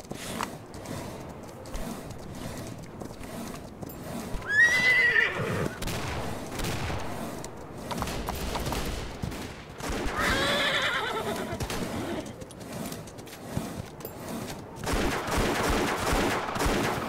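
Horse whinnies in a Wild West video game, a rising neigh near the middle of the clip over busy game noise, with hoof clatter and bursts of gunfire around it.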